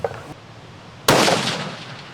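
A single .338 Lapua Magnum rifle shot fired on a long-range shooting line, one sudden very loud crack followed by a long rolling echo that fades slowly.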